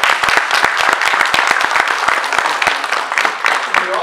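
An audience applauds jazz band students at an all-region jazz honors concert, a loud, dense stretch of clapping that continues steadily for the whole four seconds.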